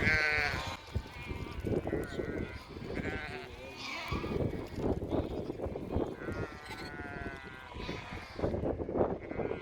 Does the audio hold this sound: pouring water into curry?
no